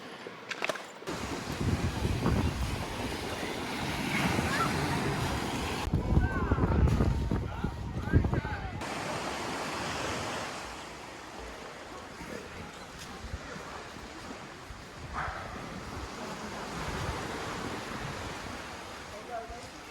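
Waves wash onto a beach in Devon or Cornwall, a steady broadband surf roar with gusts of wind buffeting the microphone, fairly close, while people talk over it.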